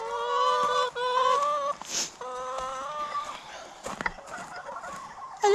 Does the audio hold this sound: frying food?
no